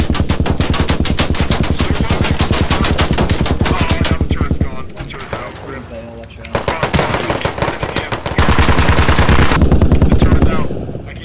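Dense automatic gunfire in the tactical shooter game Squad, loud and sustained rapid bursts with brief lulls, while players talk over the fighting.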